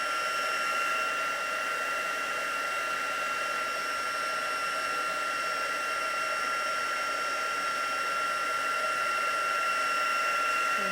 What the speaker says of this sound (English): use your heat gun to push them colours around